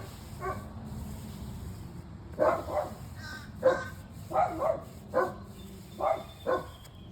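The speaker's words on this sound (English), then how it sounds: "Please excuse all the dogs in our neighborhood as they start barking" Neighborhood dogs bark outdoors in several bursts, some doubled, at a moderate distance and fairly loud against a quiet backyard background.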